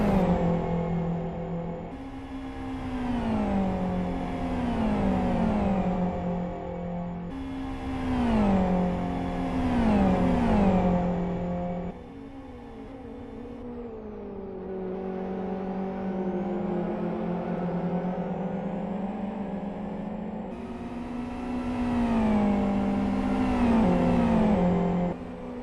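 Simulated GT1 race car engines in the Live for Speed racing game rev up and down through repeated gear shifts, loud and continuous with rising whines and brief drops, no voices over them.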